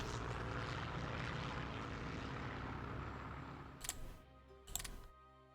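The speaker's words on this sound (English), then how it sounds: "we'll use the medium bombers for interdiction in the north" Medium bomber aircraft engines in the strategy game Hearts of Iron III give a steady, broad propeller drone that slowly fades, then two short sharp bursts break through near the end.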